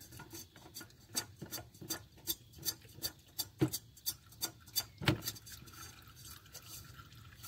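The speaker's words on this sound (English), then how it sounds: "You just screw that back on." An oil filter is screwed back on by hand under a Volkswagen Routan: close, soft rasping and rubbing strokes repeat in an uneven rhythm, each one short and scratchy.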